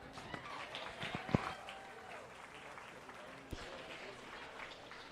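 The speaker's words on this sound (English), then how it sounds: "Give them a big round of applause." Audience applause at a 4-H starter calf show, a broad steady patter of clapping that fills the whole stretch at moderate level in a large hall, with faint voices mixed in.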